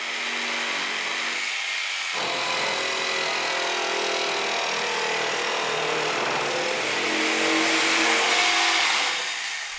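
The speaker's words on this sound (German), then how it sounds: "Mit der Stichsäge schneidet Klaus Dorsch die Form der beiden Ski aus" Jigsaw cutting the outline of a pair of wooden skis in a workshop, a loud continuous buzzing drone that shifts in pitch as it works through the wood, close and steady with no talk.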